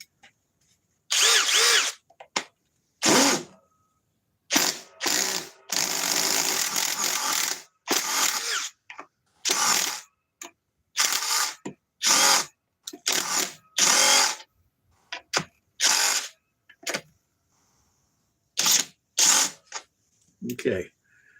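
A cordless drill fitted with a small 4 amp Bosch battery whirs in repeated short bursts, starting and stopping with irregular pauses and a few longer runs, loud and close.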